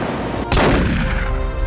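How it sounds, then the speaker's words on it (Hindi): A single sharp gunshot cracks out in the Baisaran valley near Pahalgam, a loud broadband blast that rings on with echoing rumble over steady background noise. "गोली की आवाज दूर तक सुनाई पड़ी"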